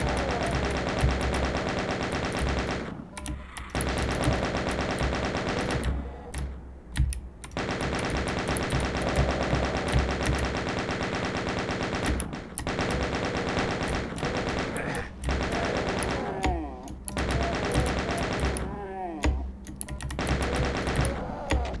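Rapid bursts of gunfire from a Doom-style video game on the Sega Genesis, dense and loud, with machine-gun-like volleys broken by short pauses and layered game sounds throughout.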